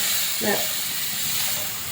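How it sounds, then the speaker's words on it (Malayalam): Water is poured into a hot pan of fish curry with kodampuli, producing a short, soft steamy hiss against a constant background wash. A voice is heard speaking around it. "ഇനി കുറച്ച് വെള്ളം ഒഴിച്ച് കൊടുക്കാം."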